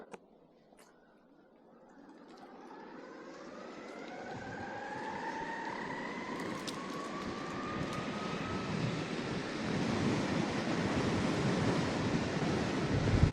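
An ONSRA Black Carve 3 Pro electric skateboard with stock 40T gearing and 115mm rubber wheels climbs a hill at full throttle in its highest mode, a rising motor whine over growing wheel and wind roar, close and steadily louder.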